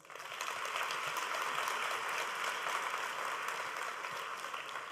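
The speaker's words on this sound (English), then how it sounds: "Huge round of applause" Graduation ceremony audience applauding, a dense even wash of many hands that swells in and holds steady, heard from a distance and fairly faint, with no talk.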